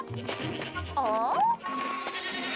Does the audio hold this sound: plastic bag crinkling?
no